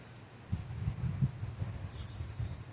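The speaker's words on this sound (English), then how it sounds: "there's no harm in tuning into the birds around me now" Faint birdsong chirps high and distant over a low, steady outdoor rumble, with no voices.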